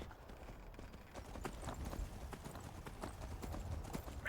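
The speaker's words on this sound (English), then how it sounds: "Let's get on the horse." Horse hooves clip-clop steadily in Skyrim, a dense run of close, rhythmic hoofbeats with faint low rumble beneath.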